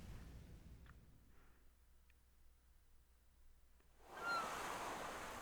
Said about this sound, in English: And we're borne up by a rush of water, probably from the windfish's blowhole.